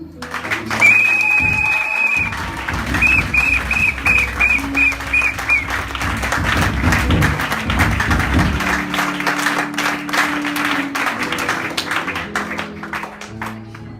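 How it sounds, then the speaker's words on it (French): Audience applause and acclamation at a church ordination service, a dense wash of clapping that runs throughout, with sustained organ or keyboard tones and bright whistle-like notes layered over it. "Je crois que en tant qu'homme de Dieu, cela mérite une acclamation."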